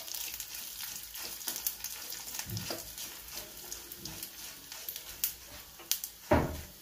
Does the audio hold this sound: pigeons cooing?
no